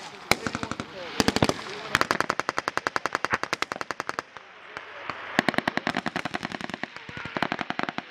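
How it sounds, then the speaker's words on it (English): Sustained automatic machine-gun fire from U.S. Marines during a live-fire combat training exercise in Australia, rapid bursts of evenly spaced shots over about eight seconds with brief pauses, close and loud, with faint radio-style talk in the background. "We're shooting right now."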